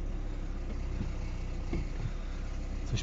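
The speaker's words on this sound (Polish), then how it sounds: "Coś pryczy w wydechu." A 2011 Opel Astra idles with a reported sputter in the exhaust. It gives a steady, low, close-up rumble with no clear sputtering and no voices.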